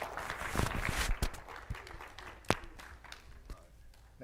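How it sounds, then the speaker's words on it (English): A small audience at a financial wisdom class claps. The applause is scattered and thins out, with a few sharp louder claps and some footsteps and shuffling near the end. "Y'all give Duke a round of applause"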